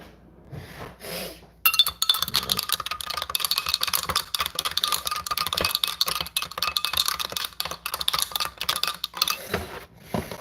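Metal spoon clinking and scraping inside a coffee cup while stirring, a busy run of small bright taps and rubs that starts abruptly and keeps going, close and fairly loud, with no talking.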